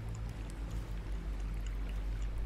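A Dishonored character slipping into water, with a steady low churning wash and faint splashy ripples, continuous and close with no one talking.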